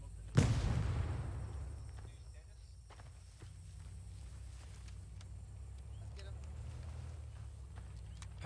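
A grenade blast in the Vietnam War combat game ArmA 3 with the S.O.G. Prairie Fire mod: one loud, sharp boom near the start, then a long rumbling decay into a steady low battlefield drone, with players talking over it.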